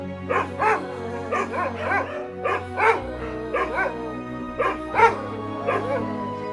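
A Rajapalayam dog barks loudly and close by in a quick series of sharp, repeated woofs, some sounding yelpy or whiny, with short pauses between the bursts.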